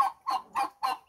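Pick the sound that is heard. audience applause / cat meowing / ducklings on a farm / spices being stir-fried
ducklings on a farm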